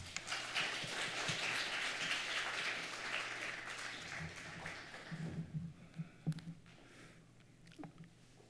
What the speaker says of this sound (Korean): 평화한국을 섬기신 허문영 박사님 박수로 축복하며 환영하도록 하겠습니다.